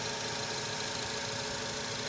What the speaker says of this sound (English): All right, the engine is running smoothly now.